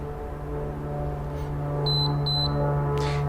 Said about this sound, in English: it will beep 2 or 4 times depending on the OSDP mode it's in